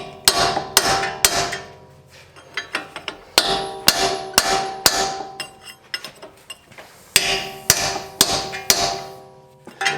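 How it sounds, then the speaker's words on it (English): A hammer drives a chisel against a car's front wheel bearing in a Dodge Journey, striking in quick bursts of sharp metallic blows with short pauses between groups, close and loud. "you use the chisel and move a little bit left and right."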